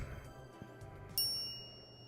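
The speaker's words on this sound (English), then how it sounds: "The chime signals our arrival on the 5th floor." A single bright elevator arrival chime rings out in the video game Steins;Gate, a clear ding that rises over quiet ambience and then slowly fades.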